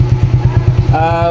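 A Suzuki Smash 115 motorcycle with a stock battery idles close by with a steady, loping chug. A voice speaks over the engine toward the end.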